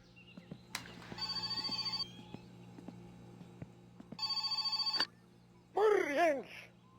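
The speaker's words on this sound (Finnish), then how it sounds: "Puhelin." A telephone rings in the video game My Summer Car: two bursts of electronic ringing separated by a pause, with faint clicks and a low hum underneath, followed by a short warbling cry.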